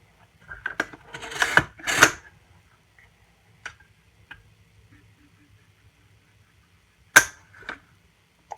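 An AR-15 trigger breaks during a pull-weight test at about six pounds, heard as sharp, close mechanical clicks spread across near silence, with a small cluster early and a distinct snap later.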